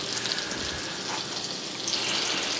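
Butter sizzles steadily in a cast iron Dutch oven, a constant crackling hiss at moderate level with no talking.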